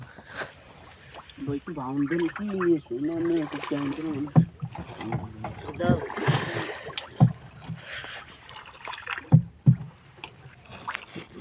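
A boat moves on water at dawn, with faint paddling and water sounds heard beneath close talking and a few sharp knocks.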